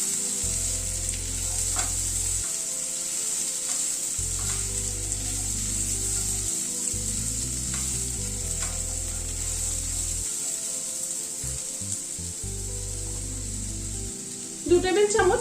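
Boiled chickpeas with a slit green chili stirred in a hot pan, sizzling loudly and continuously with scraping stirs and an intermittent low hum.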